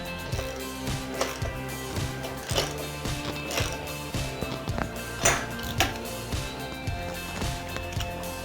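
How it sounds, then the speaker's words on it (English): A ratchet wrench tightens the axle nut on a GT Pro Series Heritage bicycle, giving rapid, regular metallic clicks in short strokes close by, with no talking. "I'm going to go ahead and tighten down the axle nut."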